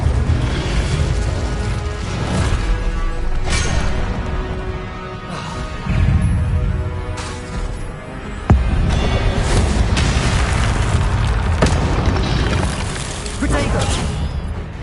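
Spell explosions in a Harry Potter video game: dense, loud booms and crashing bursts repeat almost continuously, mixed with voices shouting incantations throughout.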